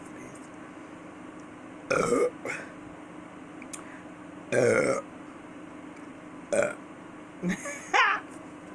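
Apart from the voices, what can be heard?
burping after eating chili cheese polish sausage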